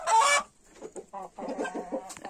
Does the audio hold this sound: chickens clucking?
yes